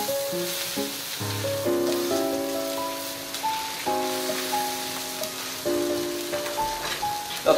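Pork tenderloin sears in a hot pan, giving a steady, close sizzle that runs throughout under a bright melodic music bed, with no voices.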